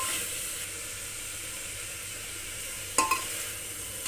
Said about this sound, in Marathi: त्यात आता मी शेंगदाणे आणि थोडेसे काजू ॲड